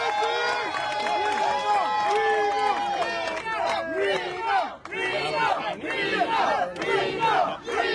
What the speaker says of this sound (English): A round of applause, please, for our new team.